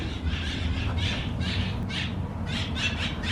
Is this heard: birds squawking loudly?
yes